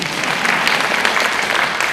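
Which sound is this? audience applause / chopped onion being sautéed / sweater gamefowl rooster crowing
audience applause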